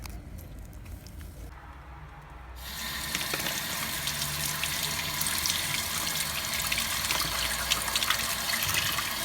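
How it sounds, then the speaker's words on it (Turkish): Running water gushes steadily from a tap, starting after a brief quieter moment and continuing loud and close with splashing as quartz crystal stones are rinsed. "Sadece sadece suyla temizliyoruz."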